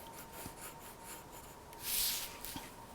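Pencil drawing castle crenellations on paper, faint close scratchy strokes with a brief louder rub near the middle, quiet and short with no talking.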